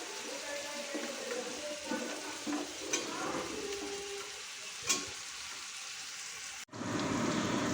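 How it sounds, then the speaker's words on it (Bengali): Chilli chicken pieces sizzle and crackle in a hot pan, a steady close frying hiss with occasional scrapes and clatters of stirring. "এখানে দেখো চিলি চিকেনটা ফ্রাই করছি মাংসগুলো ভেজে নিচ্ছি"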